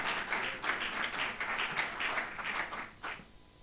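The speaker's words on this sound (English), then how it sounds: "Please, another round of applause as she makes her way right here." Audience applause at a leadership programme closing ceremony, a dense sustained clapping from a sizeable crowd that fades out at the end.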